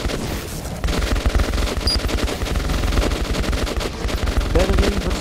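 Rapid machine-gun bursts and rifle fire rattle nearly nonstop in the post-apocalyptic shooter Metro 2033 Redux, loud and dense with overlapping shots and occasional voices mixed in.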